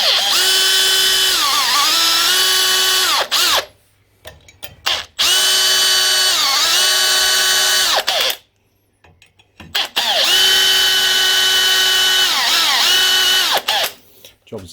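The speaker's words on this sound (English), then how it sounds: "Chuck your little drill bit in. Obviously use the same size drill bit, in this case 3mm." A power drill or drill press spins a 3mm bit through a workpiece in three sustained bursts, each a loud steady whine with short pauses between them, close up and without other sound.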